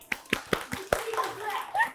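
Children clap during a kids' religious story lesson, about five distinct, evenly spaced claps close by, followed by someone speaking.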